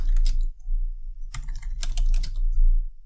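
Fingers typing lines of Python code on a computer keyboard: quick irregular clusters of clicks with a brief pause between bursts, close and clear, no voices.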